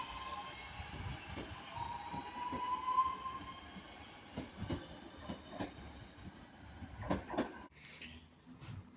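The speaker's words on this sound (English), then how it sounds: "we've got Avanti West Coast 221-111 again" An Avanti West Coast 221-111 train passes at Ardwick, faint and distant, with squealing wheels, rumbling and rhythmic clicks of wheels over rail joints that grow stronger toward the end before a sudden drop.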